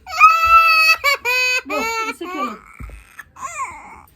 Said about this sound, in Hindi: मेरा बच्चा रोता है इतना।